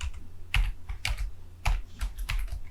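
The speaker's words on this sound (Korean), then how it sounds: "그 다음에 Alt 엔터 치시고" Computer keyboard typing while entering text into an Excel cell, including an Alt+Enter line break: close, crisp keystrokes in quick irregular clusters, with heavier presses standing out among lighter taps.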